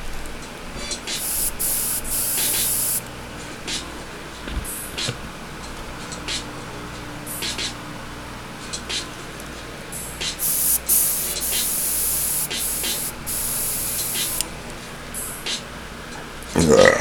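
Airbrush steadily hissing paint on a Saquon Barkley artwork, a continuous close spray with brief pauses, music playing faintly underneath.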